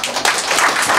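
Audience applause welcoming the county governor at a town hall dialogue event in Gwangcheon-eup, a dense, steady wash of many hands clapping at once, fairly loud and close, with no voices over it.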